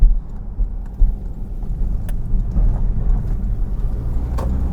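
Porsche Cayman S 981 in Sport Plus mode with the windows partly down, a steady engine drone heard from inside the cabin while cruising, with a few small clicks and rattles and no talking.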